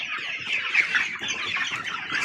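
Andijon black chicks, two and a half months old, cluck and cheep busily in a group, a near, continuous chatter of overlapping calls with no voices.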